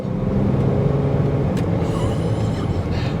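A BMW X5 35d diesel SUV pulls hard under acceleration, its engine a steady, loud low rumble heard from inside the cabin, with no pauses.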